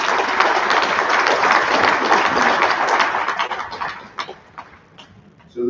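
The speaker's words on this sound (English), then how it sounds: "So, give yourselves a round of applause, please." Audience applause at an academic awards ceremony, a dense, steady wash of many hands clapping that fades and thins toward the end, with a few scattered claps and a final burst.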